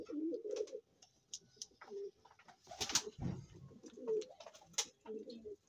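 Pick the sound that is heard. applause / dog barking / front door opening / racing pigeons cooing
racing pigeons cooing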